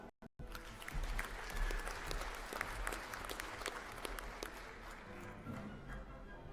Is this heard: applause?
yes